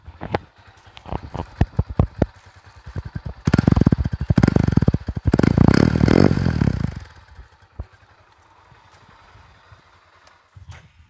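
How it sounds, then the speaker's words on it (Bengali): A Mahindra Centuro 125cc, 16 bhp motorcycle engine idles with a rhythmic thumping, revs up loudly twice in a sustained roar, then drops back to a quiet idle. "এবার আপনাদেরকে গাড়ির ইঞ্জিন নয়েজটা শুনিয়ে দিই"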